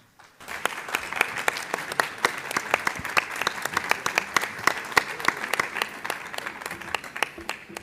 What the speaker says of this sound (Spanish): Fuertes aplausos para dar inicio a esta presentación.